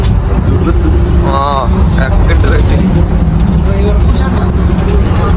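Inside a moving private bus on a trip toward Munnar, the engine drones steadily and loudly while people talk over it and a short horn-like warble sounds early on.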